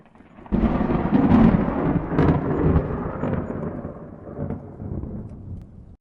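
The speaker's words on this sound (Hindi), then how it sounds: "अचानक जोर से बिजली कड़कती है" A loud thunder crash opens suddenly and rolls on in deep, rumbling waves for several seconds, close and heavy, slowly fading with no voices over it.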